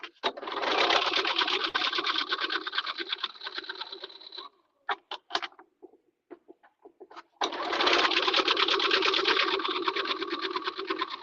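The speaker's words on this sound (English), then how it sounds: "we're gonna stitch a 1/2 inch seam allowance and then take it to the serger" A serger stitches a seam in two long, loud, steady whirring runs, separated by a pause filled with short clicks and handling taps as the fabric is adjusted.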